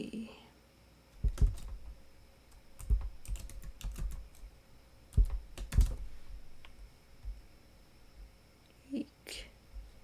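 Typing a password on a computer keyboard during a WordPress install on Ubuntu, a few scattered bursts of soft, close key clicks separated by pauses, with low background hum.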